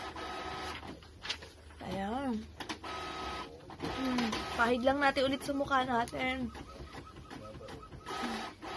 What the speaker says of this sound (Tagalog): Pasensyaan nyo na yung printer. Kung naririnig nyo yung tunog.